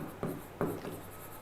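Marker or pen strokes scraping across a writing board during a lesson, three brief rubbing scrawls close up at even intervals, with no talk over them.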